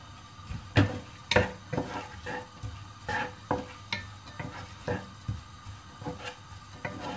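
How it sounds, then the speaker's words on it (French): Onions frying in olive oil in a pan, a steady low sizzle broken by repeated clinks and scrapes of a utensil stirring against cookware, close and moderately loud with no talking. "نديرو البصيله ديالنا فوق زيت العود، نخليوها تشحر شويه"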